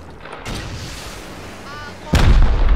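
Gunfire in the survival video game Rust: two loud, sharp reports about 1.6 seconds apart, the second heavier and followed by sustained noise, with a faint tonal whine between them.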